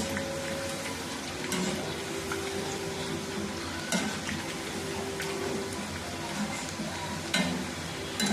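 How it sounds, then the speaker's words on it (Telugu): Bitter gourd chips deep frying in oil over a medium flame give a steady, close bubbling sizzle, with a few brief clinks and stirs breaking through at intervals. "అలానే మీడియం ఫ్లేమ్లో ఫ్రై చేసుకోవాలండి."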